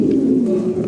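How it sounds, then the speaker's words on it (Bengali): Pigeons being handed over for delivery give a low, steady coo, close and continuous through the brief moment with no talk. "কবুতর ডেলিভারি দিয়ে দিতেছি"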